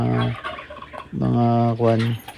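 Farm turkeys, raised under a brooder lamp in an incubator and pen, gobble in quick rippling bursts, several close and loud calls overlapping in a short run.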